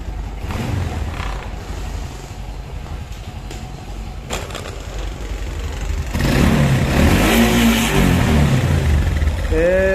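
Suprax 125 motorcycle engine in need of repair, starting up and then revving, rising from a low rumble into a louder, fuller roar for the final seconds, with some talk over it.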